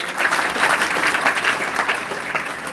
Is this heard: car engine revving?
no